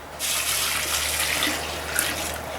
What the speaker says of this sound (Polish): Doleję wody do słomy.